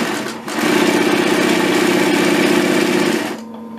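A Pfaff 335 binding sewing machine runs steadily for about three seconds with a close, even mechanical whir, then stops.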